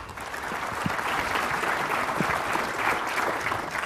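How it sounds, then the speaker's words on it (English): Keynote audience at a Google Apps roadshow applauding as the head of Google Enterprise Australia New Zealand walks on, dense sustained clapping throughout without voices. "you're getting applause and you haven't even done anything yet"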